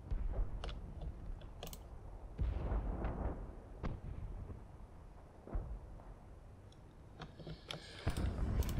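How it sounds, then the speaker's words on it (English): Mortar fire in Combat Mission: Battle for Normandy, Hell in the Hedgerows, with scattered muffled thumps and distant blasts spread irregularly over a low rumbling battlefield backdrop, fairly faint throughout. "We may as well keep those mortars falling, seeing as though we can't really aim anywhere else."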